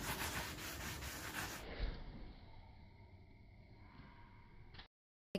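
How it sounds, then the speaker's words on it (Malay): A kitchen sponge with soap scrubbed across an old PVC leather couch, a continuous close, fairly quiet rubbing swish that softens midway and then stops abruptly. "Here, I'm using kitchen sponge and some soap."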